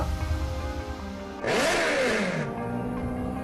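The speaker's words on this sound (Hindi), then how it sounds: "वो अपनी कार की स्पीड बढ़ाता है तो मेहुल अपनी बाइक की स्पीड बढ़ा लेता है।" A motorbike accelerates hard during a chase, a loud rising engine roar that swells suddenly midway, sweeps upward in pitch, then eases back under steady background music.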